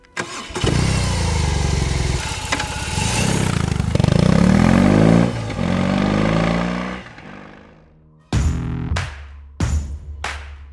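BMW R 18 boxer twin motorcycle, 1802 cc with 901 cc per cylinder, cranks and fires up, then runs with a deep, loud, rumbling idle and revs before cutting off, followed by two short blipped restarts.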